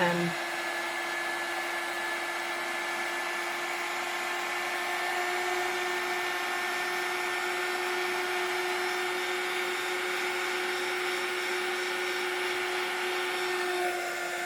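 A heat tool blows steadily while melting embossing powder on a die-cut card, a continuous close whirring drone with a fixed tonal whine running unbroken throughout.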